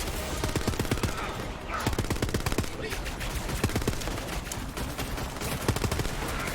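Continuous rapid gunfire from weapons in the video game Borderlands 3 crackles in dense, loud bursts with a faint voice under it.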